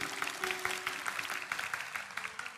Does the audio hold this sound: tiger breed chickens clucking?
no